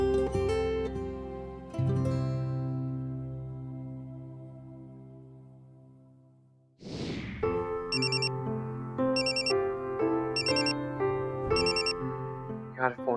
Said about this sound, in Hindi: यार फोन क्यों नहीं उठा रही है?